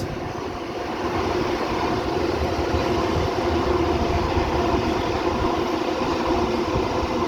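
A multi-car passenger train at Kotara station rolling past with a continuous rumbling, clattering roar of wheels on rails, fairly close and steady throughout, with no talking.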